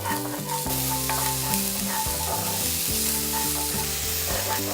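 Minced garlic and onion stir-fry in olive oil, giving a steady, close sizzle with scraping stirs throughout and no voices.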